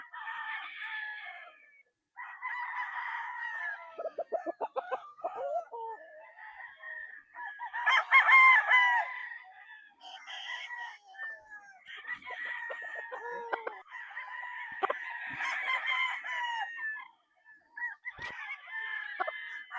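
Boston roundhead gamefowl roosters, crossed with sweater, crow repeatedly at a gamefarm. The crows come from near and farther off, mixed with short clucks and brief pauses between calls.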